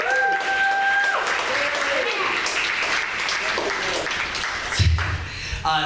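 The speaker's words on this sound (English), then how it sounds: "Please give her a warm round of applause." Steady applause from an audience fills the room throughout, with a short whistle-like tone early on and a brief voice near the end.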